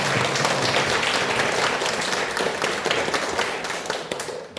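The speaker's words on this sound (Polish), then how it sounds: "Brawa. Brawa." Sustained applause fills a hall at an autism awareness event held by a forestry district, a dense wash of many hands clapping at moderate loudness, fading slightly toward the close.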